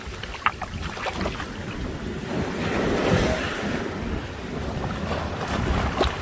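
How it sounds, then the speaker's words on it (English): Sea waves break and wash over a rocky UK shoreline in a continuous roar, swelling louder midway as a bigger wave rolls in, with wind blowing throughout. "oh, that was a big wave"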